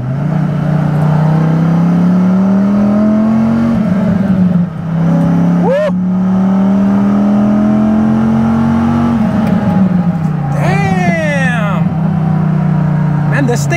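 A Dodge Viper GTS pulling hard in second gear on a highway, its exhaust droning loud and close as revs climb, dip at a shift and climb again, with a whoop from inside the car.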